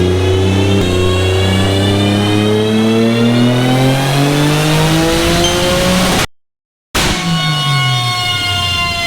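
A Nissan 300ZX with a 900-plus horsepower engine at 30 PSI of boost makes a dyno pull, revving loud and steady with rising harmonics. There is a brief dropout, then the engine comes back at high revs.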